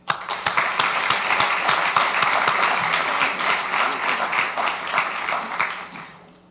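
An audience applauds to welcome author Celeste Ng at a reading event, dense sustained clapping from a full room that fades out at the end.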